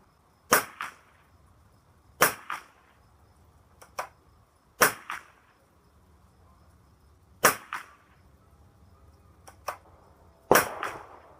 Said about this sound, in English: We're going to put another 5 rounds down range, see if we can tighten up the group a little bit.